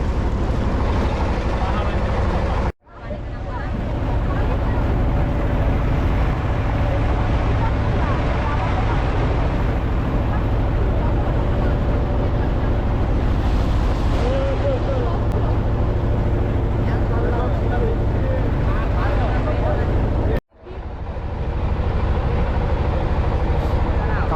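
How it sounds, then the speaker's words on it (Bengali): A small tour boat on Kaptai Lake, its engine a loud, steady drone that fills the clip and cuts out briefly twice before picking up again. "এই বোটে করে ঘোরা আপনি যদি ছোট ছোট বোটে করে ঘুরতে পারেন ঠিক এইভাবে"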